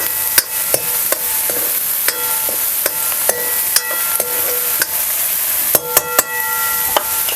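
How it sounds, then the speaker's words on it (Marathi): Onion being sautéed in a pan until reddish, with a steady close sizzle under a regular series of sharp spatula taps and scrapes against the metal, no talking. "कांदा आहे ना चांगलासा लालसर होतपर्यंत आपल्याला कांदा परतून घ्यायचा आहे"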